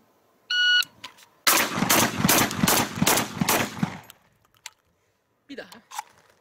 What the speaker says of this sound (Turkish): bunda flip-on, yani açılır kapanır gez takımını takmadan kendi üzerinde geldiği şekliyle atış yapacağım